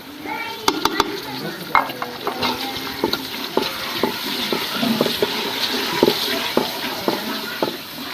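Chilies and tomatoes frying in a pan, a loud, close sizzle with frequent sharp spoon clatters and scrapes as the mix is stirred, at an irregular rhythm with no talking.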